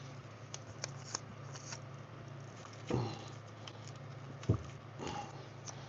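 A deck of mathematician trading cards being handled and shuffled, with soft patter and flicks that run throughout at low volume and a couple of sharper knocks partway through, over a steady low hum.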